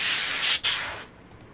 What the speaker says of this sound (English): using compressed air to get the shit out of my keyboard